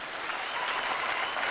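Dense, steady applause from a large audience of young people at an outdoor youth rally in Kenya, filling the whole moment at an even level with no other sound standing out.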